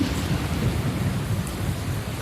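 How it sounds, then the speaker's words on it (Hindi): Heavy rain pours steadily with a deep thunder rumble underneath, a dense and continuous outdoor storm that fills the clip with no voices. "बाहर इतनी बारिश हो रही है,"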